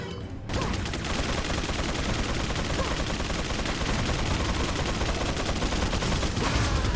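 Dense, continuous automatic gunfire from many weapons at once in Resident Evil 4, loud and sustained for several seconds after a brief quiet start.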